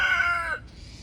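A rooster crows once, near and loud, a drawn-out call that breaks off partway through, heard alone outdoors near a fence.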